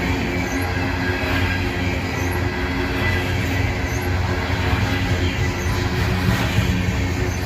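A heavily graffiti-tagged freight train passes nearby, its continuous broadband rumble and rolling rail noise holding steady throughout with no voices.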